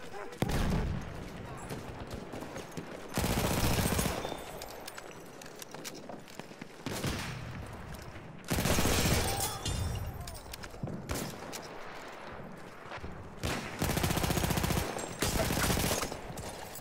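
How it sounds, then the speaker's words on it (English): Bursts of rapid automatic gunfire come from the video game Battlefield 1, loud volleys recurring several times with quieter gaps between them, and a person talks briefly amid the shooting. "I was just shooting him from the right side."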